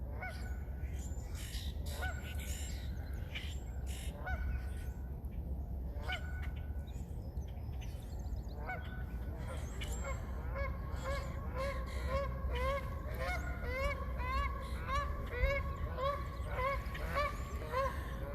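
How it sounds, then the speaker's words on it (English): Outdoor birdsong with repeated chirps and calls, mixed with louder honking calls from geese or similar fowl over steady background noise. "we have the birds chirping"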